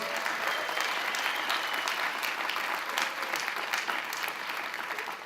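A crowd at the AIDS Walk New York kickoff applauds counsel Alfonso David, with thick, continuous clapping from many people that stays loud and even throughout.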